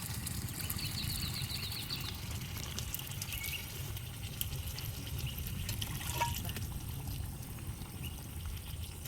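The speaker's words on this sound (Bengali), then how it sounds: "এবার একটু জল দিয়ে দিই পরিমাণ মতন" Hot water is poured into mutton curry cooking in a pot at an outdoor village garden kitchen, a steady, faint splashing trickle that continues throughout with no speech.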